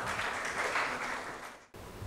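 An assembly audience in Karachi welcomes a guest speaker with brief, dense applause that fades and cuts off abruptly near the end.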